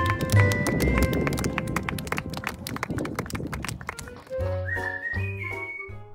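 Shetland ponies on a trail ride, hooves clip-clopping in a steady walking rhythm, close and fairly loud, with a whistle-like tone and faint background sounds joining toward the end.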